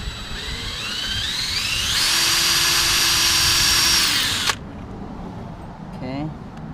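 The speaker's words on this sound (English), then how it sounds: "So I'm going to drill a little bit" A power drill bores into metal during a 2002 Toyota Sienna engine swap into a 2004 Camry V6, winding up and whining steadily for a few seconds before cutting off abruptly, followed by faint workshop sounds.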